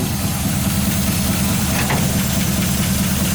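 A 1951 Buick Deluxe straight-eight engine with home-made headers idles close by, a loud, steady low rumble with an even ticking pulse and no talk.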